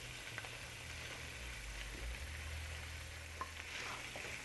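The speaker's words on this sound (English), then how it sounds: "The pan's hot, oil's hot, and it's time for the shrimp." Shrimp sautéing in a hot oiled pan, a faint, even sizzle with a low hum underneath and a couple of brief stirring clicks.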